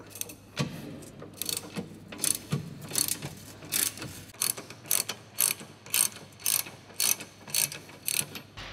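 An 18 mm wrench ratchets on a Mustang GT350 suspension bolt in a run of quick, clicking turns, sharp and close, with a faint background hum and no voices.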